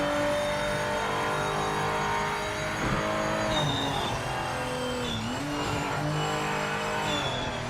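A race car's engine drones at high revs throughout a lap in Project Motor Racing, its pitch rising and falling through gear changes and corners, loud and close with no talking.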